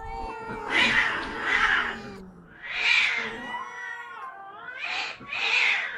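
Several cats yowl and caterwaul in drawn-out, wavering cries, overlapping loudly in a heated quarrel as they bite and claw each other, with short gaps between bursts.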